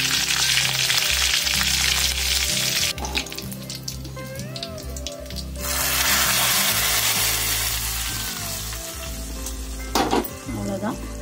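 Mustard seeds, cumin, dried chillies and curry leaves sizzle and crackle as they temper in hot oil, a steady close frying hiss with stirring scrapes, briefly quieter midway before the loud sizzle returns.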